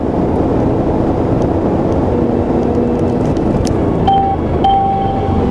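A Mercedes-AMG C43 runs flat out on a long straight at a track, giving a loud, steady engine drone with heavy wind and road roar from inside the cabin, and a couple of brief tones near the end.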